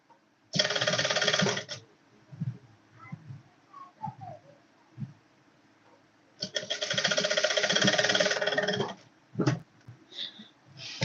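A sewing machine stitching a corset yoke, two long whirring bursts of fast needle running separated by quiet handling and fabric movement, with a short extra burst near the end.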